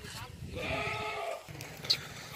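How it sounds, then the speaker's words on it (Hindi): Goats bleat on a farm where about a hundred animals are kept for sale, with one drawn-out nasal call in the middle and people talking around it. "ये देखिए दोस्तों 4 बकरे आ गए हैं।"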